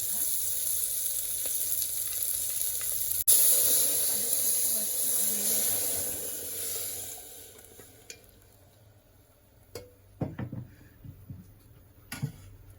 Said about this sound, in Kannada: ಮತ್ತೆ ಬೆಳ್ಳುಳ್ಳಿ ಹಾಕಿ ಅದನ್ನು ತುಂಬ ಏನು ಫ್ರೈ ಮಾಡ್ಕೋಬೇಕಂತ ಏನೂ ಇಲ್ಲ, ಮೀಡಿಯಮ್ ಆಗಿ ಫ್ರೈ ಮಾಡ್ಕೊಂಡ್ರೆ ಸಾಕು.